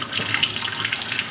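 Something rinsed under running water at a kitchen sink, with a loud, steady tap stream splashing continuously and close by, and no talking.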